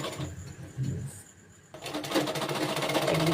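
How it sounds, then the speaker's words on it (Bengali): Sewing machine stitching fabric, a soft rhythmic mechanical whirr that stops briefly then resumes faster and louder for the second half, fairly close in a quiet room. "এবার আমি সেলাইটা করে নেব সেলাইটা করে নিচ্ছি আমি"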